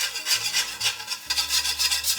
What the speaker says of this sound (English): We're gonna move to a whisk and slowly add this.